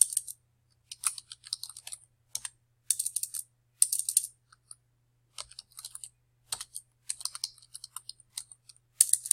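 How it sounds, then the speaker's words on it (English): Computer keyboard typing comes in quick, close bursts of light clicking keystrokes separated by short pauses, with no voices. "Boy, if I could type today."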